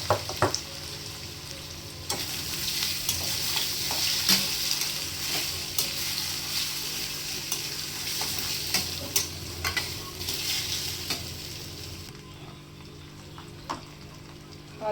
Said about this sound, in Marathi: बटाटे टाकून देऊ आता त्या फोडणीमध्ये आपण